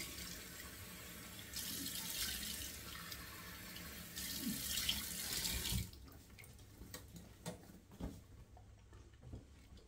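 Cool water runs from a tap into a sink during shaving, rising in bursts and splashing close by, then cutting off to leave faint drips and small handling clatter.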